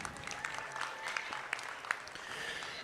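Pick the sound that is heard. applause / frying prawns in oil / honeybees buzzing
applause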